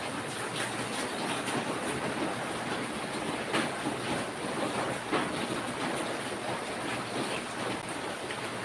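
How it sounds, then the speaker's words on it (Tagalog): Heavy evening rain pours down in a steady, dense broadband hiss that never lets up, with slight surges in intensity and no voices. "Oh, lakas ng ulan."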